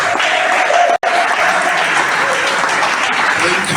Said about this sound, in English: Please, a thunderous round of applause.